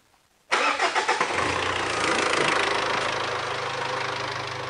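Mitsubishi Triton engine cranking over with a few rapid chugs, then catching and settling into a steady, close rumbling idle.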